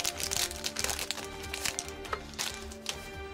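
Yu-Gi-Oh trading card booster pack wrappers being torn open and crinkled, a busy stream of close plastic crackling and rustling with sharp tearing bursts and no talking.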